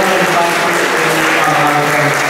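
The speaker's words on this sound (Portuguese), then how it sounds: "Vamos aplaudir esta palavra." A church congregation applauding after a Gospel reading at Mass: loud, continuous massed clapping from many people, filling the space evenly throughout.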